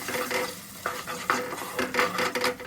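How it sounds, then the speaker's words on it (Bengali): A paste of cashews, raisins, melon seeds and poppy seeds is sautéed over low heat, with a soft sizzle under several close, rhythmic spatula scrapes and stirs. "এখন একটু লো রেখে এটাকে কষিয়ে নিতে হবে"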